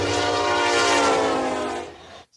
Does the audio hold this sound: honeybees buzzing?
no